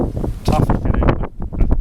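Blustery wind buffets an outdoor microphone beside a beehive being opened after a long winter, a steady rumbling roar with gusts, mixed with brief handling noises.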